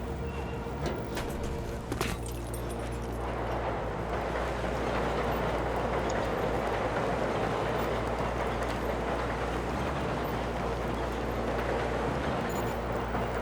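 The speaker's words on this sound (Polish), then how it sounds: "Pociąg się zbliża!" Train approaching in the video game Battlefield 3, a steady loud low rumble building and holding across the whole stretch, with a few sharp clanks near the start.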